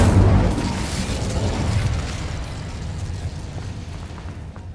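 Incendio fire spell cast in the Hogwarts Legacy video game, a loud whooshing fiery burst with a deep boom that rumbles and slowly fades over several seconds, no speech.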